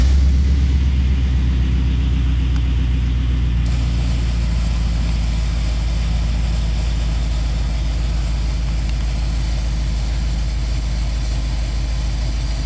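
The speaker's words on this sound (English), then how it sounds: "I'm gonna fire the truck up" Chevrolet Silverado 2500HD pickup engine turning over and settling into a steady low idle, a deep continuous rumble close by, running alone without speech for about twelve seconds.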